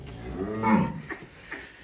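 A cow lets out a deep, drawn-out moo, close and clear, followed by a few fainter grunts and shuffling noises, as dairy cows are loaded for transport.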